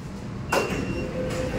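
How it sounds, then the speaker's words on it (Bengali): A metro platform sliding gate rolls open at Howrah Maidan station on India's first underwater metro, with a brief mechanical whoosh and a thin electronic tone, set against steady station hum and rumble. "একদম ট্রেনের গেট খুললো, তারপরে এই স্লাইডের গেটও খুলে গেল।"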